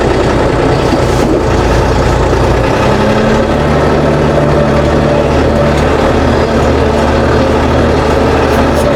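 A tractor engine from the Scout 504C, Fighter 504C and 254C line drones loud and close as the machine pulls away, a low throbbing rumble that rises and settles into a steady running note; no speech.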